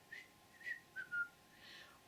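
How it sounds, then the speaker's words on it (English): A person whistles a short, faint melodic phrase of a few separate notes, alone with no talking, fitting a relaxation exercise. "Give me a whistle."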